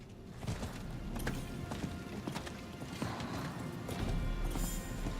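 A horse gallops in the Diablo IV video game, rapid hoof clip-clops in a quick rhythm amid dense game noise, moderately loud and continuous, with a faint brighter shimmer near the end.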